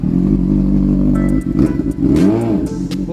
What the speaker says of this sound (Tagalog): Bururot din yung motor niya.